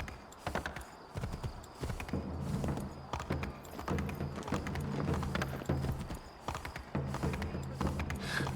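Horse hooves in the video game Assassin's Creed 3, a steady clip-clop of a horse passing, with rhythmic hoof strikes, faint snorts and background game ambience.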